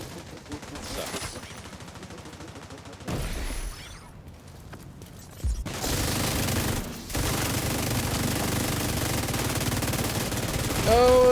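Gunfire in the shooter The Division 2, sustained automatic bursts and shots that grow louder and denser toward the end, with a brief gap midway.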